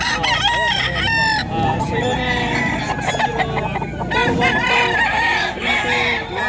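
Two-year-old Sweater bloodline gamecock roosters, yellow-legged, at an early-morning pet market in Bocaue, Bulacan, crow loudly and close alongside clucking fowl, with overlapping crows and someone talking.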